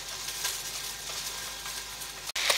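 Tomatillos and green chiles roasting in a pan for salsa verde give off a steady, close broadband sizzle with faint crackles, continuous for the whole stretch and free of talk.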